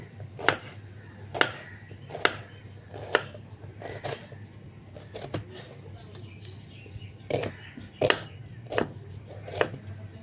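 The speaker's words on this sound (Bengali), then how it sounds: "এইভাবে প্রত্যেকটা পেঁয়াজকে আমি কেটে নেব।" A knife chops onions on a board, one by one for a Bengali katla kalia fish curry, giving sharp, evenly spaced knocks about once a second over a low steady hum.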